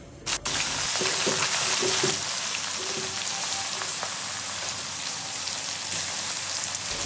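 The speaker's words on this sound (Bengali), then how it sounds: "ওদিকে মাছ ভাজা হচ্ছে" Fish fry in hot oil in a large wok, giving a dense, steady hiss that holds for several seconds. A few utensil knocks sound near the start, and no one speaks.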